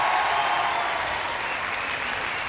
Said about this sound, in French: Voilà, mesdames, messieurs, applaudissements.